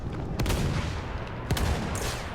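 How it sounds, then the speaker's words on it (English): Light tank anti-infantry gun in Battlefield 1 firing two sharp, booming shots about a second apart, each ringing out over dense continuous battlefield rumble and background noise. "I don't think that anti-infantry weapons in the light tank are actually buckshot."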